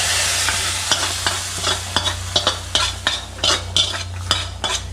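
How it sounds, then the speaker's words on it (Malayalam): Pepper, cumin, mustard seeds and small onions fried as a tempering are added to a simmering Kerala-style country chicken curry, then stirred, giving steady sizzling and frying under repeated metal spoon scrapes and clinks against the pot, close and fairly loud. "നമ്മുടെ തിളച്ച് മറിഞ്ഞുകൊണ്ടിരിക്കുന്ന നാടൻ കോഴിക്കറിയിലേക്ക് ചെറിയ ഉള്ളിയും കുരുമുളക് പൊടിയും ജീരകവും കടുകുമിട്ട് വറുത്തത് നമ്മളിടാൻ പോവാണ്"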